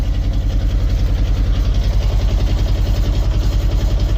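A sailboat's inboard engine idles steadily up close, a loud, even, rapid low thumping with a metallic vibration running throughout.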